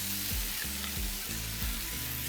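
Thick bacon sizzles on a hot griddle with a steady bright hiss and crackle, broken by a few soft scraping thumps at regular intervals, close and alone.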